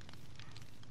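Campfire burning in Minecraft, a soft steady crackle and low rumble with scattered faint pops, heard alone at low level.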